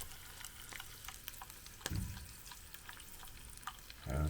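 An egg frying in butter in a 1991 Soviet mess kit, a quiet close crackle and sizzle with sharp little pops and a couple of louder bursts.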